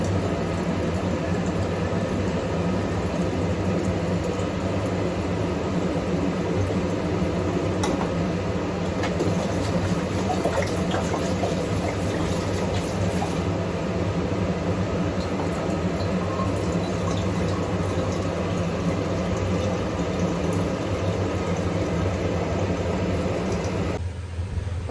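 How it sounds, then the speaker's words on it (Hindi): Empty bottles are filled with water in a home kitchen, a long continuous pour with steady running-water noise and a low background hum, ending abruptly. "मैंने कहा चलो मैं इन लोग को भी भर के मैं फ्रिज में डाल देती हूँ"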